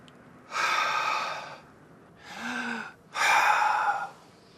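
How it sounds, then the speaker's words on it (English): Three deep, close breaths during a medical chest check: a long inhale, a shorter exhale, then another long noisy inhale, with pauses between and no talking. "Now breathe deeply"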